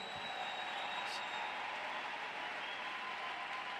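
Church congregation applauding and acclaiming Jesus, a steady dense wash of clapping and crowd noise filling the whole stretch at moderate distance, with no pauses.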